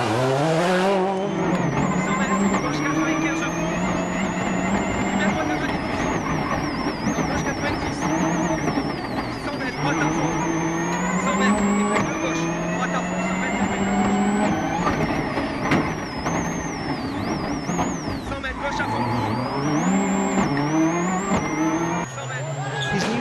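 A rally car at full speed on the Turini stage of the 2002 Monte Carlo Rally, engine revving loud and continuous with pitch swells through gear changes, tyres squealing on corners, a voice talking over it.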